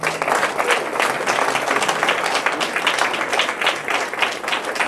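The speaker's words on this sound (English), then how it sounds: "Big round of applause for them." Sustained, dense applause from a graduation ceremony audience fills the hall at steady volume throughout, with no voices standing out.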